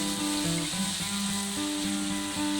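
A fish head is stirred and fried in a pan for a cabbage ghonto, giving a steady, close sizzle with light stirring scrapes beneath a constant hum.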